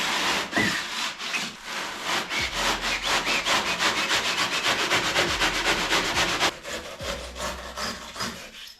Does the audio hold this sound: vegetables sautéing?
no